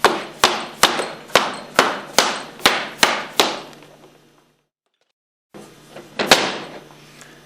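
A rubber hammer strikes a pump discharge manifold to knock it loose: about nine evenly spaced, resonant thuds ringing with metallic decay, a pause, then one more heavy blow, close and loud.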